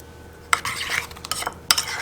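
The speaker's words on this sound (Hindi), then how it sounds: "इन सारे मसालों को अच्छे से मिक्स कर लेंगे" Spices with salt and black pepper being stirred together in a bowl, with a few quick scraping, clinking bursts of spoon against the bowl, close and fairly quiet with gaps between strokes.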